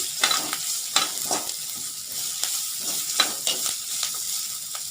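Dried curry leaves and grated carrot sauté in a hot tempering for sundal, giving a steady close sizzle broken by sharp pops and stirring scrapes, with no voices.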